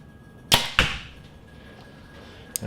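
Two sharp arrow impacts from a 2018 PSE Perform X bow thud into a target in quick succession, followed by a faint third hit a couple of seconds later in a quiet outdoor setting.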